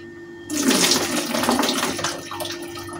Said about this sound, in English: to drain the water out of my raisin and currants